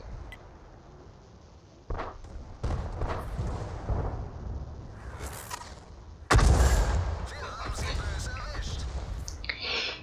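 Tank cannon fire in the video game World of Tanks, with booming artillery-like shots, one loud close blast standing out over a rumbling battle background.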